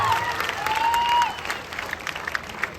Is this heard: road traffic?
no